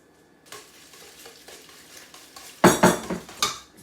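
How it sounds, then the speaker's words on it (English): Hot spaghetti tossed quickly into an egg and cheese mixture for miso carbonara, with soft stirring at first, then loud wet slaps and clinks of utensil against the pan, close and without talk. "So once it's in here, you want to mix it pretty quickly."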